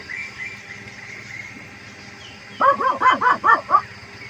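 A dog at a farm resort campsite in Norzagaray, Bulacan, gives a quick series of five or six barks from a short distance, following a stretch of faint birdsong and background hum.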